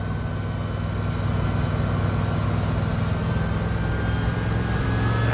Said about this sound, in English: They key in now. You can hear them rev up.